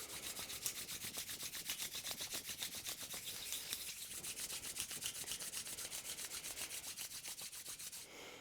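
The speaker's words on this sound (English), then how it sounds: "Now let's take our hands together, rub them." Palms rub briskly together during a yoga class, a steady, close, rhythmic swishing friction that continues without pause for several seconds with no talking.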